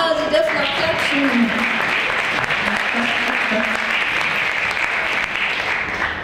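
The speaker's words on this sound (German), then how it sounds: "Ja, Sie dürfen auch klatschen." Applause from the audience at a citizen-participation workshop meeting, a sustained crowd clapping with a voice briefly audible over it and tonal background sounds mixed in.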